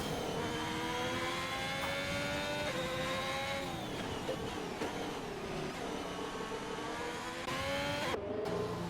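Race car engine in a sim racing game at the Brazil round of a Formula-style online league, a steady continuous drone with shifting pitch as the car laps, fairly loud and alone without talk.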